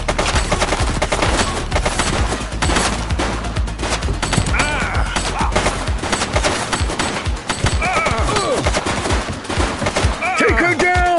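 Rapid bursts of gunfire from The Precinct on PS5, with loud, dense volleys of shots through most of the scene and shouting voices mixed in among the blasts.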